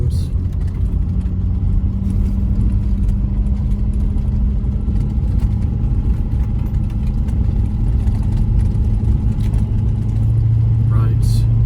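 A Ford F250 truck rolls along a bumpy road with a steady, loud low engine drone and rattling road noise throughout, while a person talks over it.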